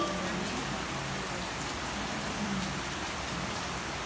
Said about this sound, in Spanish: Gracias, Señor, por esta lluvia.